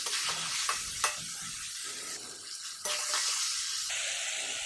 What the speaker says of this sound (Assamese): ভালকৈ মই পিঁয়াজখিনি দি চিকেনখিনি মিক্স কৰি মই লাৰি ল'লোঁ,